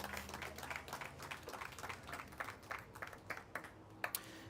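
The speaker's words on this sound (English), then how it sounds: "Let's get a round of applause for all of the nominees." An audience at a live community awards event applauds the nominees with scattered, fairly faint clapping that thins out toward the end, a few sharper claps standing out.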